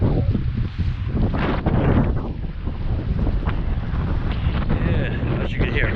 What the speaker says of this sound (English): It's quite windy down here today. At the moment it's 13 to 15 mile/hour winds.